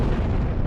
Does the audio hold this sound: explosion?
yes